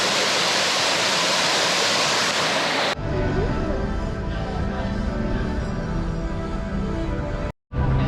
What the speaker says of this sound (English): The waves crash down